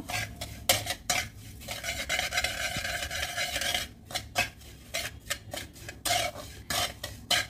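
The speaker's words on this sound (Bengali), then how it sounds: "এবার এটাকেও এর সঙ্গে ভালোভাবে একটু নেড়ে নেব।" A spoon stirs roasting semolina and cardamom seeds in a pan, giving close, repeated scraping and rasping strokes in an uneven rhythm with brief pauses, with no voices.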